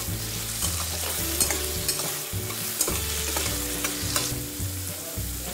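Potatoes seasoned with salt and turmeric fry in hot oil until browned, a steady close sizzle with intermittent scraping and tossing sounds and no voices.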